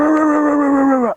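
A person mimics a dog with a drawn-out, sustained howl-like whine, loud and close, holding a steady pitch for about a second before cutting off abruptly.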